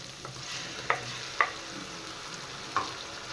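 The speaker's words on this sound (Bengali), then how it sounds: "এবার আমি দিয়ে দেব পেস্ট করে রাখা পেঁয়াজ" Onion paste frying in a pan over softened, melted tomatoes for a Bengali fish curry gives a soft steady sizzle, broken by three sharp scrapes of a spoon stirring it.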